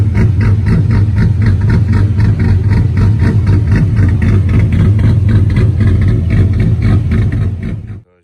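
A tuned truck engine idles with a choppy, loping rhythm, loud and close with a deep pulsing rumble, running steadily before cutting off at the end.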